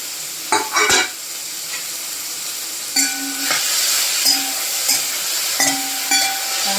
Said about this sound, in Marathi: आपण छान परतून घेणार आहोत कांदा.